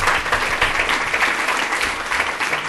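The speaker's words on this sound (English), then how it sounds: "Come on, an applause." A conference audience at a Python talk applauds steadily, a dense wash of clapping that holds evenly for a few seconds with no voices on top.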